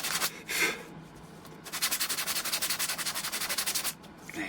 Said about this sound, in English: I'm just finishing it off with a little bit of sandpaper.